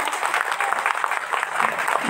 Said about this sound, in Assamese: এই সৌভাগ্যৰ গৰাকী নিশ্চয় এটা জোৰদাৰ হাত চাপৰি বজাওক।